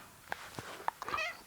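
A pet cat gives a few faint, short meows indoors, one rising cry followed by quieter chirping mews over a low background hiss.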